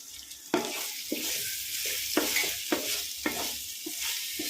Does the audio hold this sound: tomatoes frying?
yes